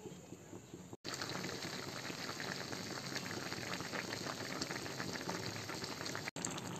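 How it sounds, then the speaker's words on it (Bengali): A soybean and potato curry simmers in a pot, a steady close bubbling and seething with thickening gravy, continuous and even apart from two brief dropouts, no voices. "এটাকে এখন কিছুক্ষণ রান্না করে নেব। ঝোলটা একটু গাঢ় হওয়া পর্যন্ত এটাকে রান্না করে নিতে হবে।"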